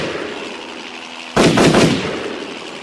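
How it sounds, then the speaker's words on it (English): A single loud gunshot effect, aimed from a mounted gun at a helicopter, bursts suddenly with a short rumbling tail, over a quiet background hiss and without any talk. "The two soldiers turned the gun towards the sky and Bond shot at the helicopter."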